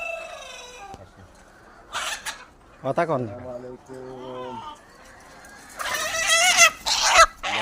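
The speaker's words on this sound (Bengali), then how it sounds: "এগুলো আমাদের সেলের মুরগিগুলো" Chickens and roosters kept for sale, weighing one to one and a half kilos each, cluck and crow nearby in overlapping bursts, with a brief spoken exchange mixed in.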